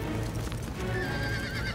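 Cartoon horses whinny loudly and shrilly while hooves clip-clop beneath them, a busy, continuous burst of animated animal sound with no talking.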